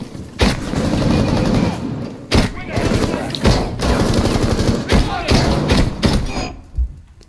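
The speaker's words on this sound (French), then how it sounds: "il y a 11 balles, donc je peux spray encore un peu plus" Gunfire in Rainbow Six Siege, with repeated loud bursts of automatic shots and heavy thuds over a dense game soundscape, mixed with some speech.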